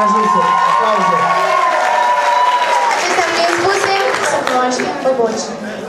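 At a high school freshman ball, the audience breaks into loud applause and cheering, a dense roar of clapping and shouts that slowly tapers off while a voice carries over it.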